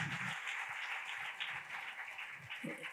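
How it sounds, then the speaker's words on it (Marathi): Audience applause at a business conference on import-export opportunities, a steady wash of clapping filling the whole stretch at moderate distance, with a few low murmurs underneath. "सगळ्यात पहिले त्या सगळ्यांसाठी टाळ्या झाल्या पाहिजेत."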